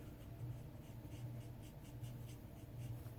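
Alcohol markers stroke and blend color across paper in a stamped card project, a steady soft scratchy rubbing repeated in short even passes, close and quiet with no talk.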